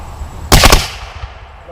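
Rifles fire a single volley at a Confederate headstone ceremony, several near-simultaneous loud cracks over about a quarter second, followed by quieter outdoor ambience.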